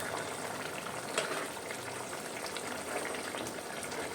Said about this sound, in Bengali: গরম মশলার গুঁড়ো দিয়ে ঝোলটা ভালো করে ফুটিয়ে নিয়ে নেড়ে ছেড়ে নেব একটু।